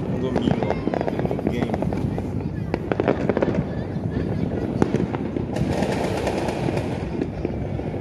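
New Year fireworks burst over a condominium in Pavuna, a dense, continuous crackle of rapid bangs and pops from near and far, with a brighter hissing flurry late on, while people talk over it.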